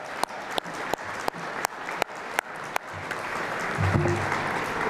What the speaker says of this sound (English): Let's please join in one more round of applause